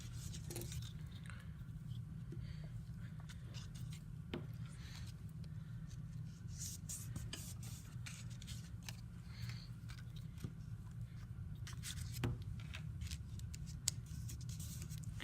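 Paper scraps trimmed with scissors for a children's shapes collage: soft, intermittent snips and paper rustles, faint and close, over a low steady hum.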